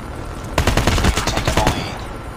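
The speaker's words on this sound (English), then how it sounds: "Stealth chopper inbound." Rapid automatic gunfire from a stealth chopper attack helicopter in Call of Duty Mobile erupts in a loud, dense burst of shots lasting over a second, then fades.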